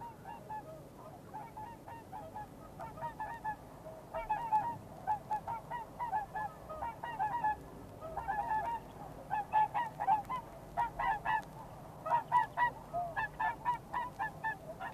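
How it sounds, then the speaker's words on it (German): Whooper swans call repeatedly where the Eider river flows into Westensee in winter, a flock of honking, trumpet-like bugles in uneven bursts that grow louder and busier toward the end, heard alone at moderate distance. "Es sind Singschwäne, die schon im November ihre nordischen Brutgebiete verlassen haben."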